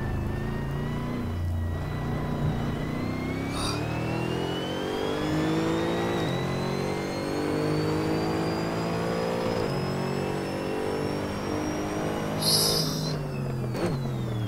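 Mercedes-Benz SLS AMG GT3 race car engine in Assetto Corsa at Spa, a loud, continuous roar that climbs steadily in pitch through the gears with brief shifts and a short high squeal near the end.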